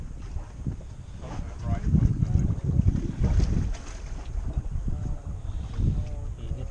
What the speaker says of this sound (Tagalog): Parang umiyak ng makina ko.